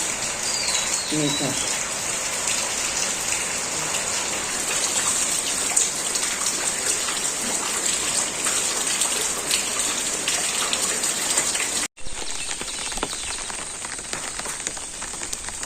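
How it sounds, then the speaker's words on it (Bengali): Steady rain falling in a village, a dense continuous hiss of drops on surfaces that carries evenly throughout with a brief dropout near the end. "সুন্দর বৃষ্টি জমছে আর বৃষ্টি হয়েছে"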